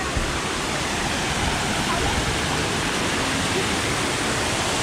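Steady broadband rushing of a waterfall in China, loud and continuous throughout, with no breaks or distinct events.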